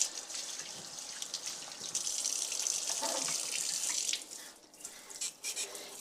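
Water runs from a kitchen sink faucet spray hose, a close, steady hissing spray that swells and then cuts off into a few drips and splashes.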